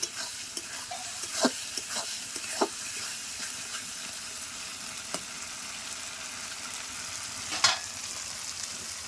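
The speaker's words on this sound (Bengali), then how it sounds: "বাটা মশলা সব কিছু ভালো করে কষে নিচ্ছি দেখো" Ground spice paste sizzles in hot oil for chicken curry, a steady frying hiss with occasional scraping stirs and clinks of the spoon against the pan, close and fairly quiet.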